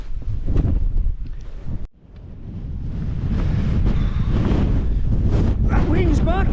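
Cold wind gusts across a Lake District mountainside near Great Langdale, buffeting the microphone loudly, dropping out briefly and then building back to a strong steady roar, with a voice heard over it.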